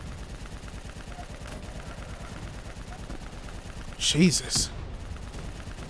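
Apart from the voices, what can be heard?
gunfire in video game Call of Duty Black Ops 3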